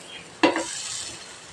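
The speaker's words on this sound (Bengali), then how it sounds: "সব অমলেটগুলো উল্টে পাল্টে ভাজা হয়ে গেছে" Stuffed vegetable omelettes with tomato and capsicum in a frying pan: one sharp scrape or flip against the pan, then a soft continuous sizzle, close and alone.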